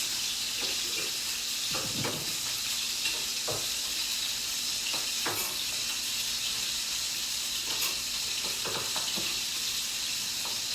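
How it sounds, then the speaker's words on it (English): Steady hissing sizzle of chicken frying and browning in a hot pan with onions, with occasional crackles and pops, close and continuous, no voices. "Hear the chicken over there sizzling and getting brown."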